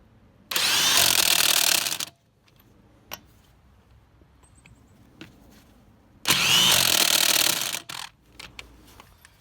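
An impact tool with torque sticks drives lug nuts in two loud sustained bursts of about one and a half seconds each, separated by quiet clinks and handling noises.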